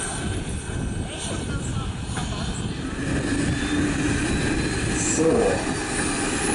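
The turbine of a scale model BK 117 helicopter starts up at a model helicopter meeting, a steady engine roar that builds slightly with a rising whine; a voice speaks briefly over it.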